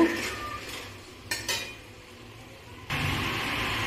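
A spoon stirs soy sauce into garlic chicken in a pan, with a few soft scrapes and clinks and then a steady low sizzle rising near the end.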